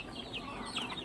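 A few soft clucks from backyard chickens at feeding time, brief and quiet against a low background hum.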